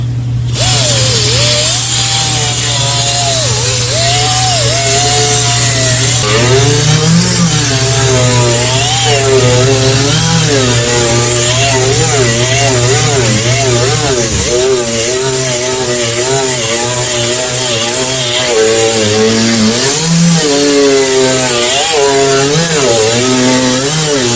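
A 36-grit abrasive grinds steadily across the inner roof skin of a 1965 Chevrolet C10, loud and continuous for the whole stretch, its pitch rising and falling with the pressure and strokes.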